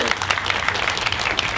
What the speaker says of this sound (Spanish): Los aplausos para ella.